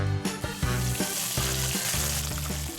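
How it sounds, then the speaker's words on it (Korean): Hairtail fish pan-fries in hot oil for an Indian-style curry, giving a loud, continuous sizzle with crackling pops and a few soft clinks up close. "팬에 갈치를 튀기듯이 구워서 커리 위에 얹어주는 것"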